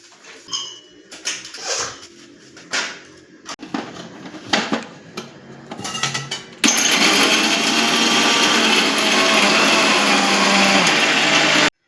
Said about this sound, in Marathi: हे मिक्सरला बारीक करायचंय